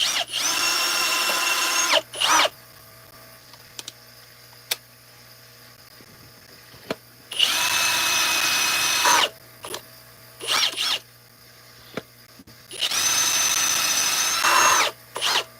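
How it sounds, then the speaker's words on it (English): An electric drill reaming out a hole in wood for a garden tool whirs in three separate bursts of a few seconds each, with quiet pauses, small clicks and handling noises between them. "I'm just going to chuck it up in an actual drill and ream that out a little bit."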